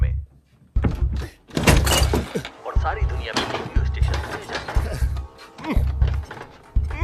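Heavy rhythmic banging on a door pounds out in repeated loud thuds across a dramatic Hollywood movie scene, with shouting voices and tense music layered over the blows.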